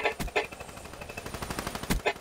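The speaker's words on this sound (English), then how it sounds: "That was really bad shooting from me." Submachine gun fire in Black Ops 3 comes as several quick bursts of rapid automatic shots across the short span, moderately loud and close, with no talking over it.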